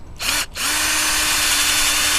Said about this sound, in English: I'll drill in